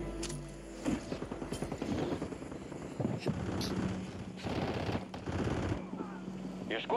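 Gunfire echoes through a Call of Duty Warzone match near rooftops and a parking lot, with bursts of rapid shots at moderate distance mixed with game noise and players talking.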